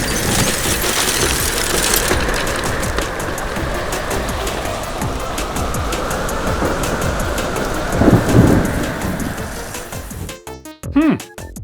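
Steady heavy rain with rumbling thunder from a thunderstorm, continuous and loud throughout, swelling with a louder rumble near the end.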